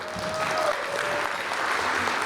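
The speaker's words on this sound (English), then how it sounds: "Crowd goes crazy for Fred" An audience at an awards ceremony applauds loudly and steadily as an honoree comes forward, a dense, continuous clapping that fills the room.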